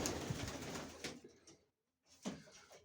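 Pigeons coo softly and repeatedly close by in a pigeon loft, a low burbling murmur broken by a brief pause before the cooing resumes.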